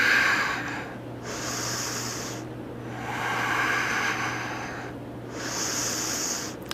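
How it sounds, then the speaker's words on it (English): Slow, deep breathing during a yoga flow: long airy inhales and exhales alternating in a steady rhythm, close to the listener over a low constant hum. "breathing."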